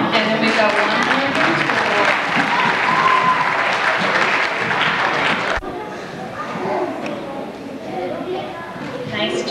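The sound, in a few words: audience clapping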